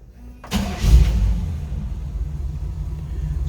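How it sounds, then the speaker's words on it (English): A 1959 Ford F100 short-box street rod pickup cranks and fires up, its engine catching with a loud low rumble and settling into a steady, close idle with no talking. "Start this truck up. Good running truck,"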